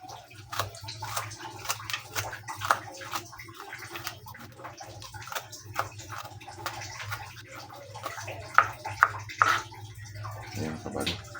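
Sliced garlic and other ingredients being washed in water, with steady sloshing and splashing, light drips and a few sharper clinks in a kitchen basin, no talking.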